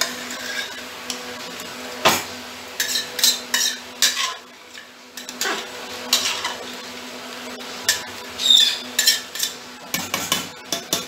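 Mutton is stirred with spices in a home pressure cooker, producing continuous close scraping and clinking of a spoon against the metal pot in an uneven rhythm, over a faint steady background hum.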